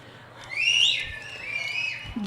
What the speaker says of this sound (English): Anybody whistle?